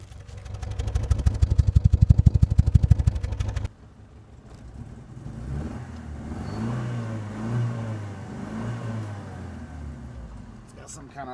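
A 1991 Honda Civic with a vacuum leak starts its first test run with a loud, rapid, pulsing engine clatter that stops suddenly. A quieter, uneven idle follows, with people talking over it.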